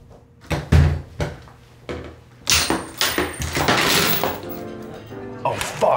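A door is pulled open with a series of close wooden thunks and clunks, followed by a louder rattling, scraping stretch as it swings, with a few knocks trailing off.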